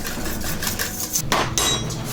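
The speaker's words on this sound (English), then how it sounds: "mix those up until they're nice and smooth and well mixed together" Wet banana bread batter is mixed in a bowl, with a utensil scraping and knocking against the sides in uneven clinks and taps, close and fairly loud.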